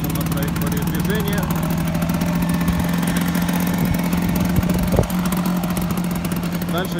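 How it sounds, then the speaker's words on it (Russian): A Vespa motorcycle engine hums steadily at low revs as the clutch engages and it pulls away, a constant drone with a faint clunk near the end, heard under an instructor's speech. "Об этом будет свидетельствовать изменившийся звук двигателя. И теперь добавляем газ. Поехала."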